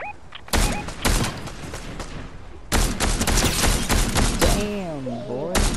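Rapid bursts of video game gunfire crack out in loud volleys, pausing briefly before another long barrage, with someone talking over the shooting.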